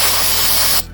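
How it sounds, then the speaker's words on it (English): A short, loud burst of brake parts cleaner sprayed onto a Kawasaki Ninja 400 kickstand bracket, a close, forceful hiss that cuts off sharply after under a second. "Gonna hit those with some brake parts cleaner."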